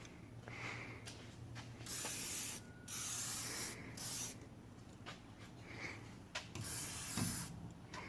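WD-40 spray lubricant hissing out in several bursts while reassembling steering parts, each a steady airy spray lasting about a second, with soft clicks and rubbing between them.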